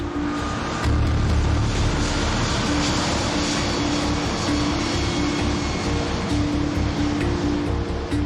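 Malaysia Airlines MH370 airliner on its takeoff roll: a steady, loud, broad jet-engine roar with a sustained low rumble and a faint tonal whine, continuous throughout with no speech.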